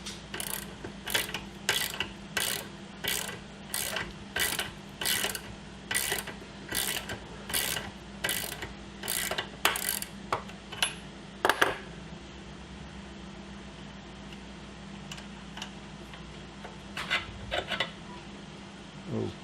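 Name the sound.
removing bottom pin from link bar with a vise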